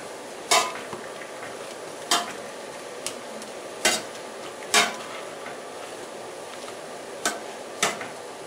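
A sauerkraut mixture with milk being mashed in a pot, sharp intermittent knocks of the masher against the bottom at irregular intervals over soft squelching, fairly quiet with no voices.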